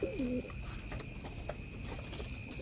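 A male Royal Teddy pigeon, a Pakistani teddy breed, gives a brief close coo at the start, followed by low, quiet background bustle and faint chirps from other birds.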